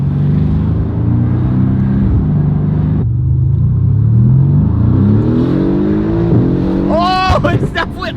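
A car's exhaust rumbles deep and loud from inside the cabin while it drives, the low droning note wavering as the throttle changes, and a voice calls out briefly near the end.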